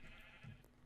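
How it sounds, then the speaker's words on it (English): A sheep in the Minecraft video game gives a single short bleat, faint and brief, with no talking over it. "Now that is a nice sheep farm right there."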